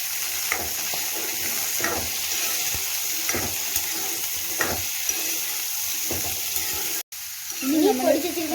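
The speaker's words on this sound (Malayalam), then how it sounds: "ഇനി നമ്മൾ ഈ ജാതിക്കയും കൂടെ വാട്ടി വെച്ചേക്കുന്ന ജാതിക്കയും കൂടെ ഇതിലോട്ടിടും." Nutmeg rind frying with wilted kanthari chillies in a pan, a constant close sizzle with rhythmic spatula stirs, briefly interrupted before a louder burst of frying and scraping.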